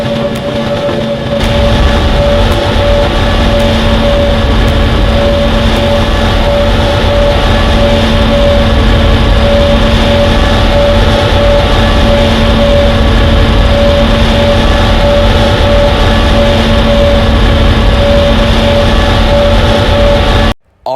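Airbus jet engine during takeoff in the flight simulator game GeoFS, a loud constant droning roar with steady tonal hum, unbroken for the whole stretch before cutting out abruptly at the end.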